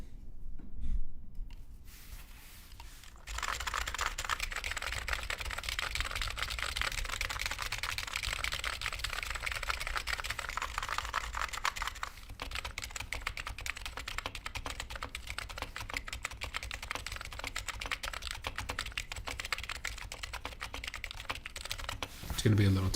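Rapid, continuous typing on a mechanical keyboard, close up, with a steady stream of clicks and clacks lasting throughout and background music playing underneath.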